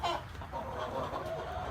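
Hens in a farmyard cluck softly and steadily over a low outdoor rumble, with no voices in between and no clear crowing.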